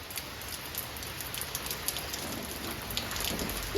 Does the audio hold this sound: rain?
yes